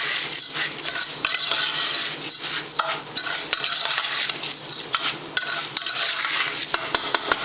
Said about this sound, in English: So I'm gonna try to put all the oil together,